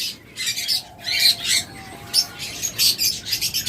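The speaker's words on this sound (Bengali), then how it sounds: "চমৎকার এই ককাটেল জোড়াটা যারা নেবেন" A pair of cockatiels for sale gives repeated harsh squawks and chirps at close range, in bursts with short gaps between them.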